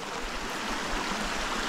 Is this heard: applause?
no